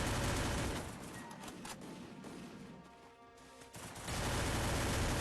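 Gunfire in the Free Fire mobile game as a player shoots down a tree, a dense loud burst of rapid shots that drops away briefly in the middle and then resumes at full intensity.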